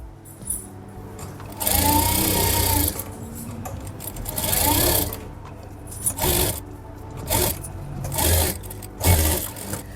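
A sewing machine stitches along a suit neckline in several bursts of rapid mechanical chatter separated by short pauses, close and fairly loud, with no speech.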